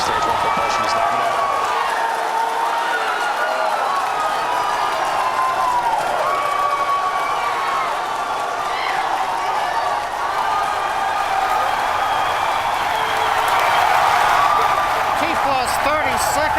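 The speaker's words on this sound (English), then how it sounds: "If you can hear me over the cheering, Falcon Heavy heading to space on our test flight." A large crowd cheers and shouts continuously and loudly through a SpaceX Falcon Heavy test-flight launch, with a voice talking beneath the roar.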